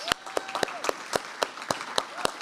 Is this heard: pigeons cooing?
no